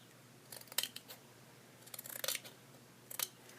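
Scissors snip through fabric while a boy doll T-shirt is cut out, giving several short, crisp bursts of cutting close by in an otherwise quiet room.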